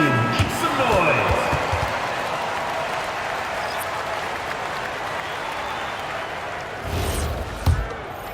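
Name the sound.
crowd applause during basketball game timeout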